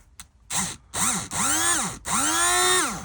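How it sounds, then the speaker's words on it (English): Electric motor of a large prairie model locomotive, run on a 12-volt supply, whirs up and down in four short bursts, its whine rising and falling in pitch each time, close and fairly loud with no talking. "let's just try the motor and see if we've got any power on that first"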